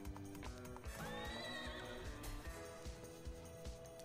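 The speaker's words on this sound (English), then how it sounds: "Well, those are horses." A slot machine video game sounds a horse whinny, a rising and falling neigh near the start, over steady galloping clip-clop hooves and busy game music, loud and sustained.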